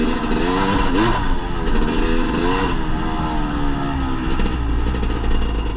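A motorcycle engine runs close by and loud, with a continuous rumbling drone and rising and falling revs throughout, and no talking.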